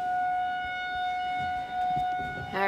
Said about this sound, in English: It's just they're just testing the tornado sirens.